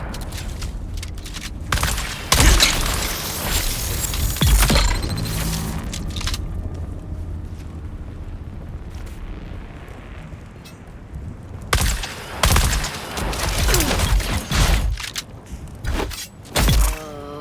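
Loud, dense bursts of gunfire in Dune Awakening come in clustered volleys with booming impacts, pausing into a quieter stretch before several more sharp salvos return.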